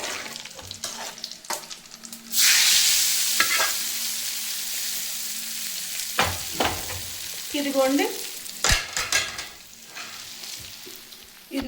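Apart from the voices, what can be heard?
tempering spices sizzling in pan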